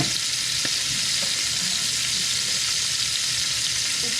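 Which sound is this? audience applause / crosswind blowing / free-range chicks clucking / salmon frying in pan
salmon frying in pan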